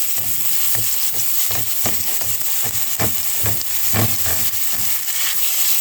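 Garlic fries in a pan of tomato sauce, with a loud, steady sizzle and rhythmic scraping and stirring strokes close up, and no voices.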